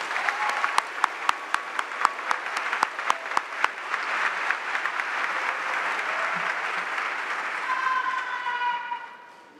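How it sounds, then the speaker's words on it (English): A graduation audience applauding in a hall, loud dense clapping with several sharp individual claps up front, swelling into a sustained roar before fading out at the end, with a few cheers or whistles near the close. "Let's give them one more round of applause."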